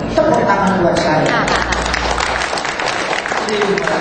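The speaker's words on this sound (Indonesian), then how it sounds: "Tepuk tangan buat saya" Audience applause at the launch of a singer's biography book 'Legendary Diva', a dense, loud wash of clapping that runs steadily beneath a speaking voice.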